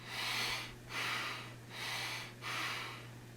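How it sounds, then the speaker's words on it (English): Heavy, excited breathing close to the mic: four long, loud breaths in a steady rhythm over a faint constant hum. "I guess you can tell from my breathing right about now."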